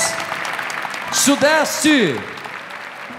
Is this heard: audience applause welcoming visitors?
yes